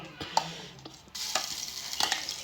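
Mustard seeds and spices tempering in hot oil for a chutney, a soft steady sizzle with scattered pops and spatters, growing busier and louder partway through.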